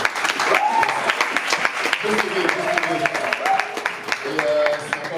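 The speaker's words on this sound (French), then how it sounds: "Vous pouvez juste applaudir, juste un peu." An audience claps over a continuous stretch, a warm wash of many hands at an evening event, while a speaker's voice carries on through it.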